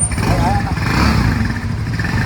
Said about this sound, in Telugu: ఇప్పుడు ఇంజన్ స్టార్ట్ అయింది కదా